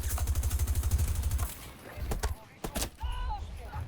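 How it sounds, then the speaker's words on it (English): A mounted Vulcan stationary minigun fires in Battlefield 2042, a rapid, evenly pulsing burst for over a second, then scattered separate shots and impacts with a rattling tail. "mounted Vulcan stationary minigun."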